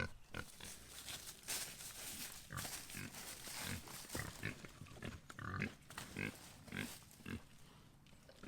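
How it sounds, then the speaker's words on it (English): Pigs sunbathing on a farm grunt and oink in a dense, irregular stream of close, low snorts and squeals, with no talking. "Sunbathing pigs. They were sunbathing."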